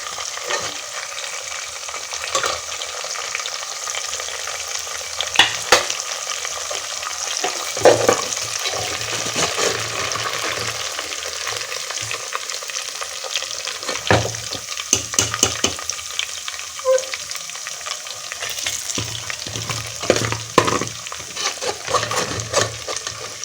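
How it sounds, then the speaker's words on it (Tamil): Prawns sizzle and crackle steadily in hot oil, a continuous frying hiss with occasional sharper pops and stirring noises. "மெதுவாக தான் இதை வந்து நம்ம பொரிக்கணும்"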